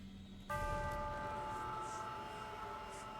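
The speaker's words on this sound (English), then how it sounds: "For whom the bell tolls." A bell tolls once in the video game Distraint 2, a loud sudden strike whose ringing hum sustains and slowly fades after a quiet ticking start.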